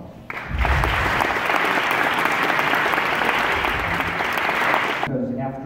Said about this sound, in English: I would like us to give him a round of applause